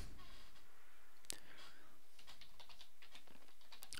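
Someone types on a computer keyboard with quick, close, irregular key clicks and taps in a quiet room.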